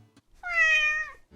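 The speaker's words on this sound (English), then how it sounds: "A cat, and what does a cat say?" A cat gives one clear, drawn-out meow, loud and close, with brief soft sounds just before and after it.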